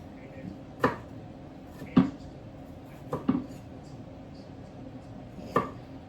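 Pickles are diced with a knife on a cutting board, four separate sharp chopping knocks spaced unevenly over a quiet kitchen background, close and clear.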